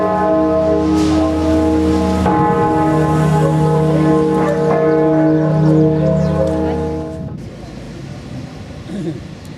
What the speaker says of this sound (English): houses a massive bell. It is rung at noon every day.